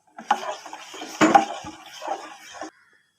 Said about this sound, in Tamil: அடுப்பத்தை வச்சு இதை அப்படியே கிண்டிக்கிட்டே இருக்கலாம்